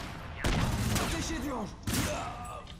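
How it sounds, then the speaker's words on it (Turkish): A grenade blast in the video game Crysis Warhead sets off a loud burst, then a second sharp explosive crack follows about a second and a half later, each trailing into rumbling debris and noise. "Abi el bombası atıyorum ben oraya."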